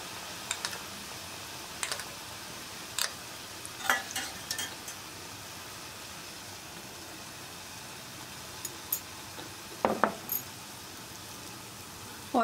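Batata vadas for vada pav frying in hot oil in a kadhai, a soft steady sizzle broken by sharp ticks and pops from spatters and stirring, close and fairly quiet with no talking.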